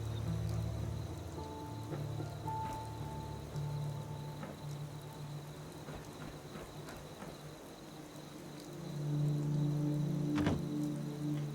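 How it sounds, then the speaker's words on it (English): Rain falls in the video game Fallout 4 over an outdoor ambience, a soft continuous patter mixed with insect-like chirring and low background tones, with no talking. "Hope this rain lets up soon."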